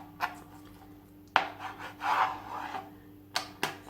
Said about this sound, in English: beef top sirloin that I am gonna cut into thin strips